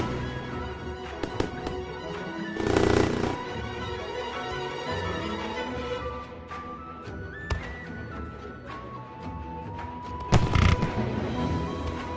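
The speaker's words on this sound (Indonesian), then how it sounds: "Tembakan kembang api mempesona menghiasi langit." Fireworks bang and crackle repeatedly over a steady background of music and crowd noise at a lantern festival, with louder bursts standing out now and then.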